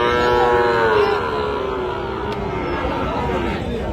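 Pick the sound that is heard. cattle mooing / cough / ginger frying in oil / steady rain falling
cattle mooing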